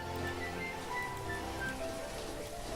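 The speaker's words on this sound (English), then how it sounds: "And of course it's raining." Rain falls steadily in the Banished village-building game, a continuous patter of drops with faint tonal game sounds layered over it.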